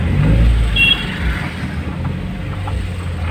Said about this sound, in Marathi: पूर्ण ट्रॉफिक असते इकडे.